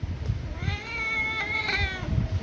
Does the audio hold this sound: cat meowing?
yes